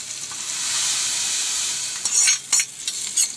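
Hot tempering of curry leaves and chilli powder is poured into fish curry in a clay pot, making a steady bright sizzle that ends in several sharp crackling bursts.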